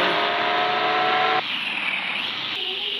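A car's engine roars loud and steady from start to finish, its pitch shifting as it drives off, with no talking.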